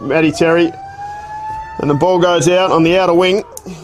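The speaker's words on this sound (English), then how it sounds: "that's the siren to the end of the second quarter" A long sustained siren sounds at an Australian rules football match in the Ongerup Football Association, marking the end of the second quarter, while a commentator talks over it.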